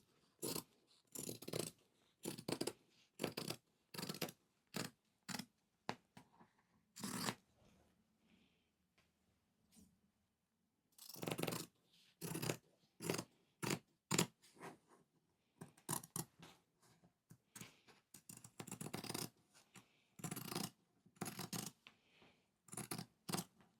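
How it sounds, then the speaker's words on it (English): Scissors snipping through fabric while pockets are being cut out for a dress, a run of short crisp cuts in quick bursts with a pause in the middle, close and clear with no talking. "because I haven't got a new rotary blade, I am just going to cut this as well."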